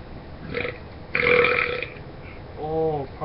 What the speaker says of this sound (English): Sorry for that belch, folks.